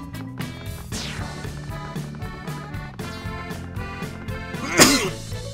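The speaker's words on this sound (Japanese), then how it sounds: "くしゃみが。" A cartoonish sneeze from a character in the Mario & Luigi RPG Brothership video game rings out once, a sharp burst near the end, set over continuous upbeat game music.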